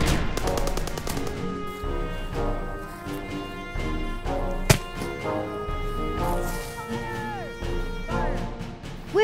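Gunfire in a family adventure movie scene, with shots and bursts crackling through a dense, busy mix of music and effects, one sharp loud crack standing out near the middle.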